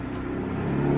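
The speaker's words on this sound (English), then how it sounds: "Otherwise, we're just going to hear traffic for the whole video." Rush hour road traffic drifts in through an open window, a steady low rumble of car engines that swells slightly toward the end, with no voices.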